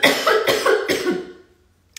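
Three or four rapid harsh coughs from a woman, close and loud, then trailing off into near silence before a faint sound at the end.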